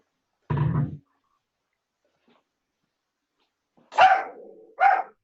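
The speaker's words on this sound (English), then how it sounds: "These are dogs joining for you" Several dogs bark in short, separate bursts: a single low bark first, then after a pause two higher, sharper barks close together, fairly near and clear with no talk over them.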